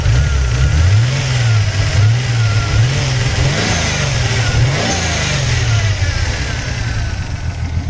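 A Datsun 280ZX engine, restarted after sitting two years, runs rough and loud up close, its revs surging and dipping unevenly in a wavering drone.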